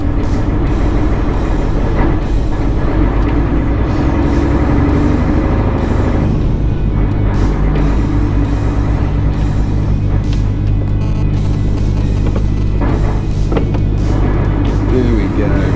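A heavy goods vehicle engine rumbles steadily as the truck pulls away hauling a trailer, with a deep, continuous low drone and mechanical clatter that stays loud and close throughout.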